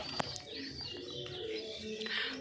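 Domestic fancy pigeons in a home collection of breeds such as Shirazi, Mookee, Kaldum and Giribaz coo softly against a steady background, with a few brief chirps and no talking.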